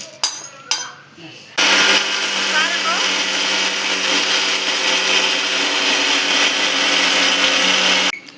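Roasted spices being ground to powder in a kitchen mixer grinder, a loud steady whirring drone that starts abruptly after a few soft knocks and runs continuously for several seconds before cutting off.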